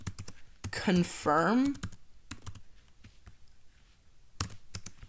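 Computer keyboard keys tapped in short bursts to enter a Discord bridge command, a few scattered clicks around a brief stretch of speech.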